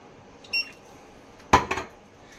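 A pressure cooker is set down on a stove beside a tawa, with a faint metallic clink early, then a louder clatter of metal on metal in a quiet kitchen.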